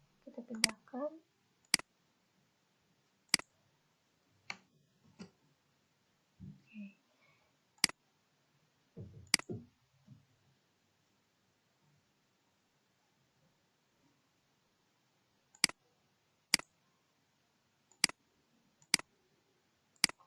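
Computer mouse clicks while copying and pasting, sharp isolated ticks spaced a second or two apart in quiet surroundings, with a few brief bits of murmured voice early on.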